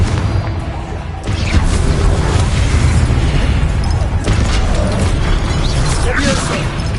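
Confringo fire-blast spell bursting in Hogwarts Legacy amid spell combat, a sudden loud boom about a second in, followed by sustained crackling and rumbling blasts with a second punchy hit later, dense and close.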